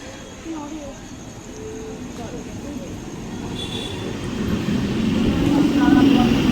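A train pulls into a station during a busy Durga Puja festival outing, its low rumble swelling steadily louder over several seconds amid crowd noise and some background talk, with faint brief squeals of wheels.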